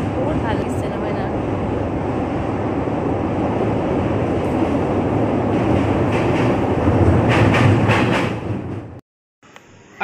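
Passenger train running, heard from inside a nearly empty railway coach: a loud, continuous rumble and rattle of wheels on track that swells briefly before cutting out near the end.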